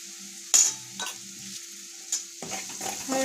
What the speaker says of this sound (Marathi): आता मी हळद टाकते